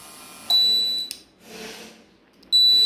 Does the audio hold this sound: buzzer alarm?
yes